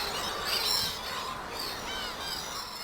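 Streaked shearwaters calling noisily on their breeding island, a chorus of harsh squawking calls overlapping continuously, moderately loud against a steady outdoor background.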